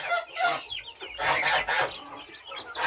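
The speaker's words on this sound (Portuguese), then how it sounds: "Quanto custa cada um pintinho desse daqui? Um pinto caipira." Free-range chicks on a farm cluck and peep in close, overlapping bursts, a busy fluttering chorus of small bird calls with no voices over it.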